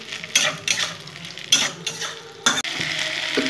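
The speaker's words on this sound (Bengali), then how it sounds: "কাঁচা পাকা লঙ্কাগুলো দিয়ে দিলাম, ভালো করে ভেজে নেব" Onions with green and red chillies frying in a pan give a close hiss, punctuated by several sharp clinks and scrapes of a utensil against the pan, with no talking.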